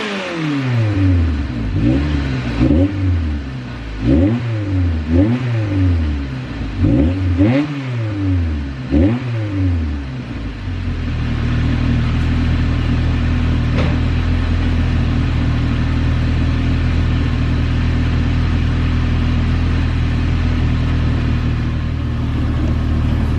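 A right-hand-drive car engine runs steadily while being checked for exhaust leaks: rhythmic revving pulses for about ten seconds, then a loud, even idle drone that continues alone with no talking.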